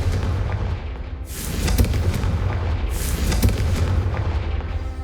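A Confringo blasting spell goes off in Hogwarts Legacy, giving two heavy, booming bursts about a second and a half apart, each a broad roar over a constant low rumble, close and loud.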